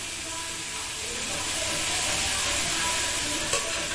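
Leaves roasting in a hot pan for arbi fry, a steady, close, loud sizzle and hiss that holds evenly throughout with one brief stir-like clack near the end.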